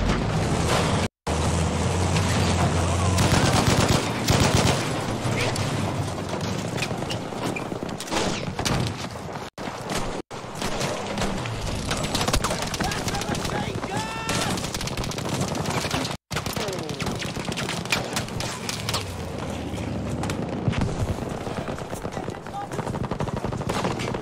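Sustained automatic gunfire from the video game Battlefield V, a full magazine emptied in long rattling bursts, loud and close, with a few short breaks and a voice talking over the shooting.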